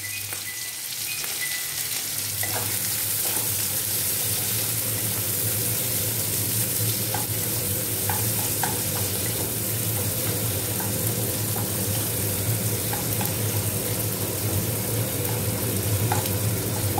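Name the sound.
onion frying and being stirred in pan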